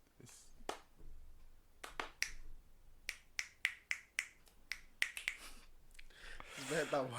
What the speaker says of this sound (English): How about one person claps, one person clicks?